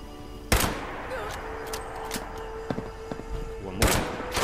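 Sniper rifle shots in Fallout 76, two loud sharp cracks spaced a few seconds apart, with softer thuds and scattered game sounds between them.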